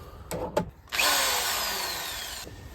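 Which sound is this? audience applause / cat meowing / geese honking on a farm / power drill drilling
power drill drilling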